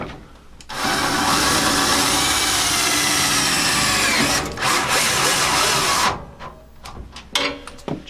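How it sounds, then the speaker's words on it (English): A power drill fitted with a 3/8 socket drives metal screws while building a simple hammer rack. It whirs loudly and steadily for several seconds, pauses briefly and runs again, then stops to quieter handling noises. "chuck up a 3/8 socket in my drill and go ahead and screw these in"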